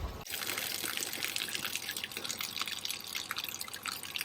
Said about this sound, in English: They have fresh spring water.